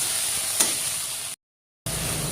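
Korti fish snout frying in a pan, a steady close sizzle with one brief spitting pop, cutting to silence for about half a second before the sizzle resumes.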